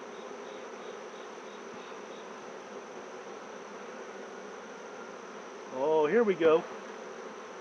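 A steady drone of honey bees fills an apiary during a hive inspection, the buzzing constant and close, briefly joined by a voice near the end.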